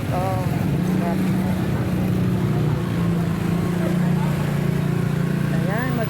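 Heavy motorcycle traffic streams past on a street, a steady continuous engine roar with a rising whine near the end, while a person talks over it.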